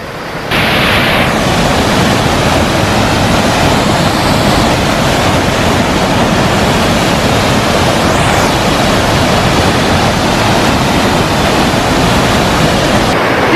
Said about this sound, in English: Found the waterfall at last, one that's working.